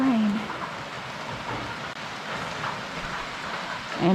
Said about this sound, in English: Sit here and enjoy the rain.